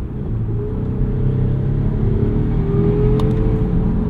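A Volvo S60 T8 Recharge plug-in hybrid, the 455-horsepower 2023 Ultimate Black Edition, accelerates in hybrid mode with a steady loud engine rumble and rising whine heard from inside the cabin, with no talking.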